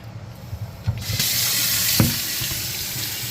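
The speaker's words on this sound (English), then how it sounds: "get some more tank water, fill up our canister, and hook her back up" Tank water being poured into an aquarium canister filter, an FX6, during cleaning: a steady close rushing splash and hiss of running water after a few light knocks and clatters at the start.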